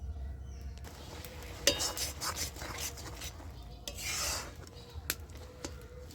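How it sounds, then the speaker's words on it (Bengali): A spoon stirs mashed pumpkin leaves and other ingredients in a cooking pan, with rough, rasping scrapes and rubbing strokes against the metal, close by, plus a few sharper clinks. "এইবার এই সব উপকরণগুলোকে আমি সব মিশিয়ে দিচ্ছি।"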